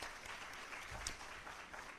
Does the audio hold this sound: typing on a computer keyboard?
no